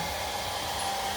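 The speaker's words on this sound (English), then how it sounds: "The beads are dry, and I used this hair dryer." A hair dryer blows steadily at close range to dry beads on a wooden board, a continuous loud whooshing whir with no pauses.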